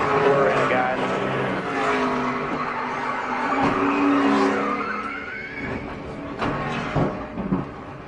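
Race cars at the 2011 Daytona 500 roar continuously as one spins and skids on the banked track, a dense loud engine drone with tire noise swelling and fading, crowd and commentary mixed under it.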